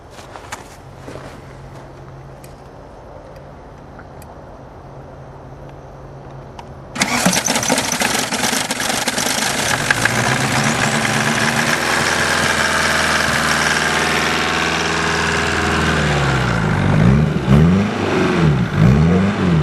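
A 1993 VW Jetta 1.9 turbo diesel with worn injectors cranks in cold weather of about 20 degrees, then fires abruptly into a loud, rough clattering idle that runs steadily and close, with a few quick revs near the end.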